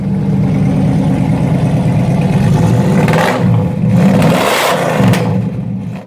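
A Chevrolet 454 big-block V8 muscle car engine rumbles at a loud, close idle, then blips the throttle into two sharp revs that climb and fall back, alone without voices.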